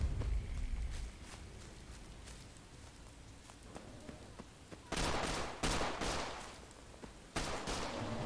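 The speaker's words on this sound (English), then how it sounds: "that's a silenced weapon of some sort. Sounded like a silenced rifle" Several suppressed rifle shots in Fallout 4, fired in sharp bursts that come closer and louder toward the end, with scattered earlier cracks at a distance.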